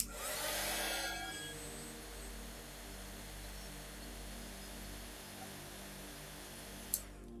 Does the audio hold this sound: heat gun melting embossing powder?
yes